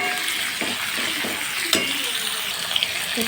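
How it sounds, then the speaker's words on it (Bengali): Chicken pieces frying in a pan while being stirred, with a steady broadband sizzle throughout and scattered scraping clicks from the spatula, fairly close and with no voices. "চিকেনটা দিয়ে বেশি করে ভেজে নেবো ভালো করে।"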